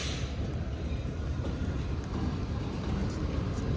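Faint, steady low rumble of a Pakistan Railways express train pulling into a station, continuous and distant with no talk.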